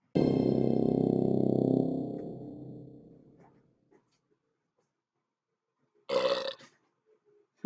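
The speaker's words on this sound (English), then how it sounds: "And of course, he burps." A cartoon character lets out a long, loud burp lasting about two seconds, fading out, followed later by a short, bright sound effect near the end of an animated educational piece about a neutrophil engulfing bacteria.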